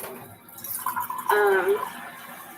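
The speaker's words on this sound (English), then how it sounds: "So I'm just going to put some water in a cup" Water is poured into a cup indoors in a kitchen, giving a faint splash that rises to a brief ringing fill, with a voice speaking faintly in the background.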